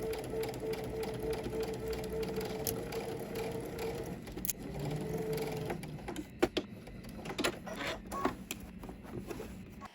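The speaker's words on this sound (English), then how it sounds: "following that existing stitching line, we're gonna go ahead and stitch through all layers" A sewing machine stitches through all layers of a pant seam along an existing stitching line, its motor and needle whirring in uneven bursts with clicks and pauses, close and fairly quiet.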